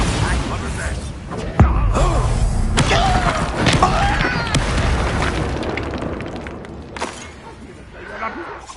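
Blasting spells from Hogwarts Legacy burst in repeated booming explosions with crackling debris, one sharp impact near the start and further blasts through the fight, mixed with game mechanisms and shouted spell calls.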